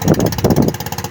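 A motorcycle engine idles close by in a Philippine barangay, giving a steady low chugging with a fast, even pulse throughout.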